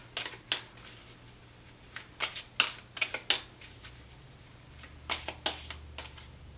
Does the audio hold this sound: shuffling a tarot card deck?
yes